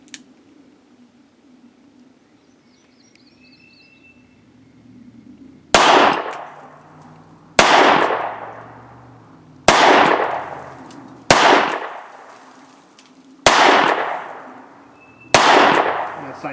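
Six sharp, loud reports from an Alfa Proj revolver firing .38 rounds outdoors, spaced a couple of seconds apart after a quiet stretch, each crack ringing out with a decaying echo.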